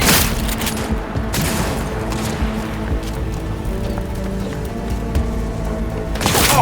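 Loud, sustained bursts of automatic gunfire in the Cyberpunk 2077 video game, dense and continuous with heavy booming impacts throughout, nearby and with no talking.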